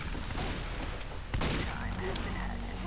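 Team Fortress 2 Spy gunfire in a match, a dense flurry of shots crackling under continuous game noise, with a stronger blast about midway; clear and fairly close.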